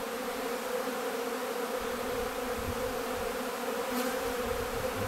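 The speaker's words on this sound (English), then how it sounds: "It's been a long time since I've seen and heard this much activity in the apiary." Honeybees in a busy apiary in spring produce a steady, dense buzzing hum that fills the air evenly without break, moderately loud and close, with no speech.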